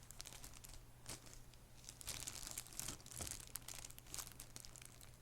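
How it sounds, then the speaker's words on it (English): Quiet, irregular crinkling and crackling of packaging, a series of brief rustles and crunches close by over a low steady hum, with no talk. "Crinkle, crinkle, crinkle"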